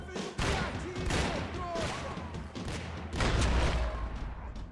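Bursts of rapid gunfire from the video game Max Payne 3 crackle in a sustained shootout, loud and close, with brief lulls between volleys and faint voices underneath.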